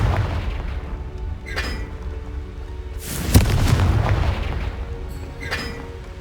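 Confringo explosive spell in Hogwarts Legacy bursts with a single deep boom midway, rising out of rumbling game ambience and fading into a rolling roar.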